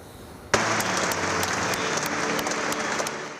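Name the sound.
applause at Alex Zanardi's funeral in Padua basilica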